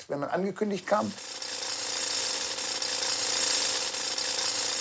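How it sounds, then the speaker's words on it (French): A jackhammer pounds steadily in a quarry where children work, a continuous harsh rattling that follows a brief burst of speech and carries on alone, fairly loud. "Ces enfants sont toute la journée devant un marteau-piqueur."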